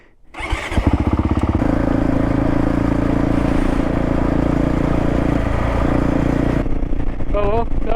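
A Honda CRF450 Rally prototype motorcycle on a heavy-duty shakedown ride starts up and pulls away, its engine droning loud and steady with rising revs, then drops off near the end as a voice speaks briefly.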